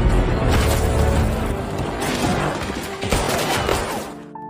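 Gunfire in an action film shootout, with heavy overlapping bursts of shots and crashes forming a loud, sustained volley that thins slightly toward the end.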